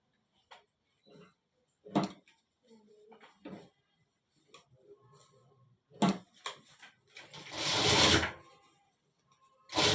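A sewing machine stitches a folded seam on a full-sleeve shirt in short, separate bursts, then runs in one longer, louder stretch near the end, with quiet gaps between runs.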